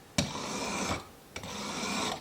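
A steel chisel is drawn over a sharpening stone, clamped in a Gubeter honing jig, in two long, even rasping strokes with a short pause between them. The grinding is close and clear, with no voices.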